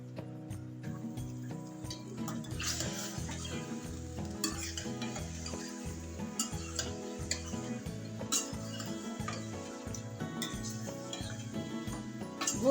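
Mutton sizzling in hot oil in a pot for nihari while a spoon stirs it, a steady crackle of frying under repeated scraping and clinking against the pot's sides, close and continuous.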